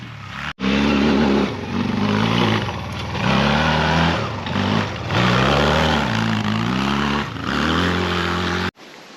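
Small 250cc Barossa quad engine idling and revving loudly and steadily close by, the pitch rising and falling in a few swells, with one brief drop partway through before it cuts off at the end.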